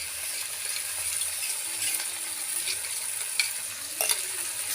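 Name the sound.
fish frying in a pan with spices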